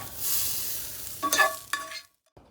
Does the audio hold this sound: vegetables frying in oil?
yes